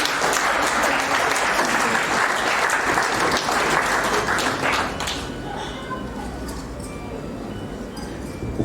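Applause from an audience at an award ceremony in Kinshasa, dense clapping for about five seconds, then thinning to scattered claps with murmuring voices.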